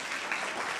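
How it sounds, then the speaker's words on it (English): A panel presentation audience gives Russell Irick a round of applause, a brief burst of steady crowd clapping. "You give him a big round of applause"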